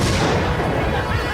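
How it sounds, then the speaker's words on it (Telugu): A small bomb goes off in a Telugu comedy film scene, a loud, dense blast of crashing noise that fills the whole brief moment, with no speech over it. "మీరని తెలియక చిన్న బాంబు పెట్టాను"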